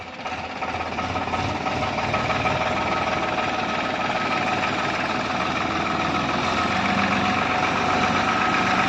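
A tractor engine idles steadily with a constant low rumble and rattling chug, continuous and close, no voices.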